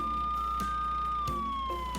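Ambulance siren from a children's cartoon about vehicles, a steady high electronic tone that holds level and then slowly dips, loud and close, with faint clicks and background sound underneath and no talk.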